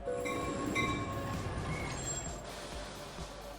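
In the Avatar World video game, a train pulls into a station with rumbling wheels, clanking railcars and a few high metallic squeals. The sound is steady and fairly close, with no talking.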